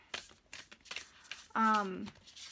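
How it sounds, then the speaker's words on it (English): An oracle card deck is shuffled by hand in a series of soft papery riffles and taps, followed by a brief louder tonal squeak or rub near the end. "while I'm shuffling this, we'll see if we can pull a card and see how far it goes"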